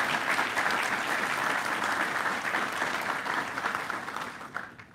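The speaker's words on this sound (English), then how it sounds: "let's give the administrator and the entire Biden-Harris administration a round of applause" Sustained audience applause at a celebration marking 50 years of the Clean Water Act, steady dense clapping throughout that fades slightly toward the end, with no talk over it.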